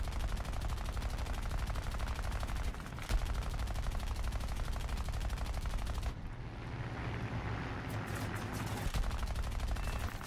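Video game gunfire in a dense, continuous rattle of rapid automatic bursts that runs the whole time, with a short dip in intensity midway before the shooting resumes.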